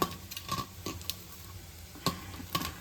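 Boiled potatoes for pav bhaji being mashed and stirred in a pan with cooked tomatoes, giving soft irregular scraping and squelching taps under a faint sizzle, with no talking.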